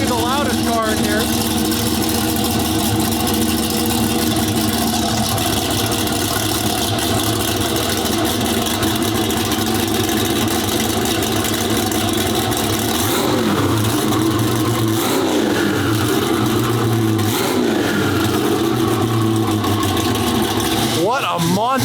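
A Venom F5 twin-turbo LS V8 idles with a heavy, loud burble and is blipped into several rising and falling revs, close by, while people talk.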